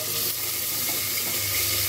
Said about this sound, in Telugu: వేసుకొని మంచిగా ఫ్రై చేసుకుందాం.